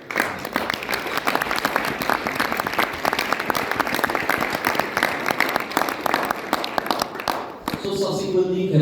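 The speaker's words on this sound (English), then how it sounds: "You all really need to give yourself a bigger round of applause." Audience applause at a Riway International business event in Poland, sustained loud clapping from a large crowd filling the room, ending with a voice speaking over a microphone.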